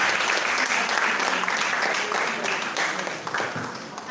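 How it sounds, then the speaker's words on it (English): Audience applause at a WOFEST 23 event, a dense, sustained wash of clapping from a crowd, loud and even, with a few faint voices underneath. "let's give her a big round of applause"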